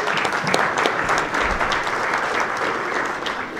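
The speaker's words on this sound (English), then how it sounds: "Can we give them a big round of applause, everybody?" An audience at a community meeting in an elementary school applauds in a steady, dense wash of claps for nearly four seconds, fairly loud and unbroken by speech.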